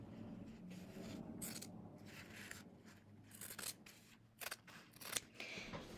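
Scissors snip and slide through quilting fabric in a series of quiet, close crisp cuts with soft rustling between them.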